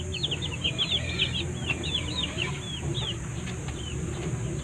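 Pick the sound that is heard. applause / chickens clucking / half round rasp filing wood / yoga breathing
chickens clucking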